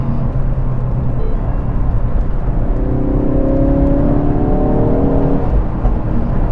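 A Mk3 Ford Focus RS in track mode drives along with a steady, loud engine drone and road roar, rising tones midway suggesting acceleration through the gears.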